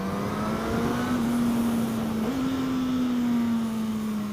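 A Suzuki GSX-S1000 super naked motorcycle engine runs with a steady, droning tone on a test ride, rising slightly in pitch midway as revs build, loud and continuous with no talk.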